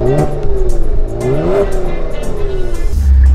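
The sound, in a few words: 2018 Kia Stinger GT engine accelerating while driving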